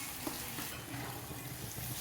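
Spices for Mumbai pav bhaji sizzle and are stirred in a pan, a soft continuous frying hiss broken by light scraping strokes, close and moderately quiet, with no talking.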